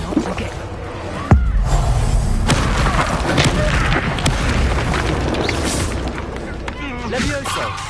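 Reducto blasting spell in Hogwarts Legacy sets off a sudden booming explosion followed by rumbling debris and lingering thuds, loud and close, with voices and game effects mixed in.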